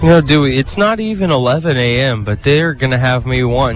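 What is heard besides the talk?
No everyday noises stand out.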